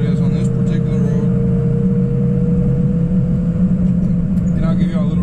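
A truck with a 6.0 engine cruises down a road at about 55, giving a steady loud interior engine drone and road rumble with a low hum that holds constant throughout.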